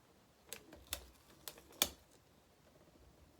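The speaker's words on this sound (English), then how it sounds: "And then you want to use your razor and just cut around it." A razor blade cutting around tape on a toy Barbie car, a few faint, sharp clicks and scratches spaced irregularly over a quiet background.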